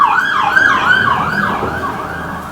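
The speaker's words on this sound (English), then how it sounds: "That's an ambulance." An ambulance siren wails loud and close, its pitch sweeping up and down in steady repeating cycles. A faint rumble of road traffic sits underneath, and no one speaks.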